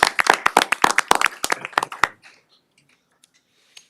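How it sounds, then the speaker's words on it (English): A room full of people at a city council meeting claps for the fire department: about two seconds of brisk, close applause that tapers quickly into a quiet room with a few scattered stray claps. "I think they deserve a big round of applause"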